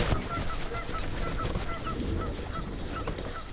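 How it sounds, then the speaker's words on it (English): A goose honks several times at a distance beside a grassy lake, faint calls over steady outdoor background noise, with no talking. "Old good luck goosey over there."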